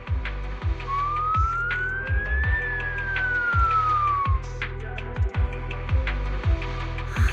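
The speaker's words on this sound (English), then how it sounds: "So it really is a siren." A wailing siren in the video game Zenless Zone Zero rises and falls once over a pulsing, rhythmic mechanical thump that repeats steadily beneath it, fairly loud and unaccompanied by speech.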